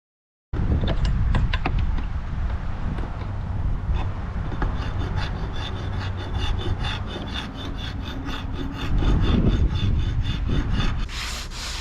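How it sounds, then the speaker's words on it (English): A hand scraper scrapes old finish off teak boat toe rails in repeated rasping strokes, close and loud, one after another with brief pauses, no talking. "This is the scraper I use the most."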